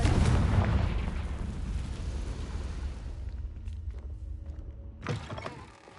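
A Confringo blasting spell exploding in the video game Hogwarts Legacy, a loud rumbling boom at the start that decays slowly into a fading roar, followed by a smaller thud and clatter near the end.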